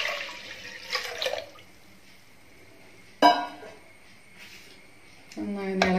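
Water is poured into a pressure cooker over lentils in a home kitchen, heard as a few short splashing bursts with near silence between them.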